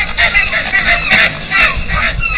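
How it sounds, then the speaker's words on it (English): Barnacle geese honk loudly on Arctic shores, a close flock giving a rapid, overlapping series of nasal calls with no talking. "Barnacle geese have returned to the Arctic shores."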